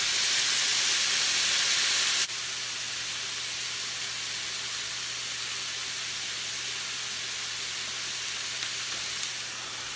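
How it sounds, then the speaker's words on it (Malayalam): Vegetables for a thoran sauté in a hot pan with a continuous loud sizzle and hiss, strongest at the start and then settling to a steady lower level. "ഈ ശകലം നേരം നമുക്കിതൊന്ന് വഴറ്റി കൊടുക്കാം."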